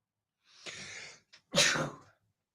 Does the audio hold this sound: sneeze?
yes